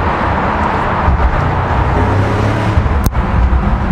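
Loud, steady exhaust roar from an Audi RS6 with ABT tuning, around 700 horsepower, driven through a tunnel. A single sharp crackle breaks through near the end of the continuous engine drone.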